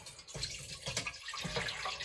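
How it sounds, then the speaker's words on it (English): Juice pouring from a tilted can into a container in a kitchen, a close, liquid splashing trickle with a couple of stronger gushes over about two seconds, no talking. "So I'm going to make sure I'm over, and I line my can up with the bottom tip of the can to the top, and I tilt it."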